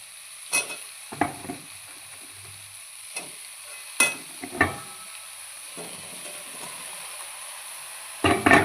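Elephant foot yam stalks stirred and fried in a paste of ground ginger, garlic, green chilli, salt and turmeric, giving scattered scraping stirs and soft sizzling at close range, with a louder scrape at the end.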